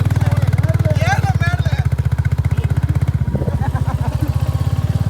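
In the hills of Vagamon, Kerala, a car engine labours without power. It gives a loud, close, steadily throbbing drone that runs throughout, with people talking over it.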